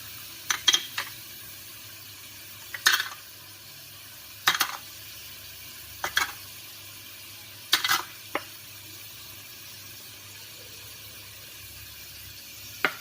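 Spices frying for chana curry in a quiet pan, with a faint sizzle under repeated metallic scrapes and clinks of stirring that come in short bursts every second or so.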